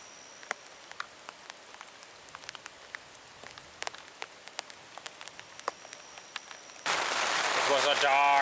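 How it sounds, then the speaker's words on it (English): Rain arrives in the Temagami wilderness during a thunderstorm: scattered close drips tap a surface, then a steady dense downpour suddenly starts and holds loud and even. "Here comes the rain."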